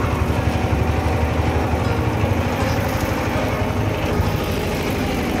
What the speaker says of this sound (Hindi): आज हम पेटी गन्ने की जुताई कर रहे हैं छोटे ट्रैक्टर से, जो कि 5 टाइन वाला कल्टीवेटर है।